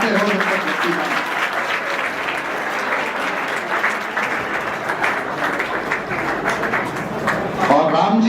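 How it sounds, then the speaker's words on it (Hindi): An audience at a motivational talk for IAS/IPS/PCS aspirants claps continuously as someone is called to the stage, a dense steady roar of hands with voices mixed in. "तब तक बजाते रहो जब तक व्यक्ति ना आए"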